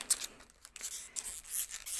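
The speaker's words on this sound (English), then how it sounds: "I just used some scissors and took it off." Scissors cut through plastic packaging on a small box of Holbein gouache paint, a close series of sharp snips and crinkles in an uneven rhythm.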